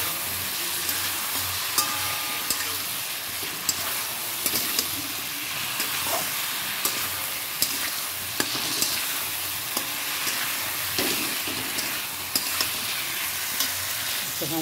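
Dal frying in a pan is stirred continuously, with a dense, steady sizzle and hiss and periodic scraping and tapping of the spoon against the pan, with no voices.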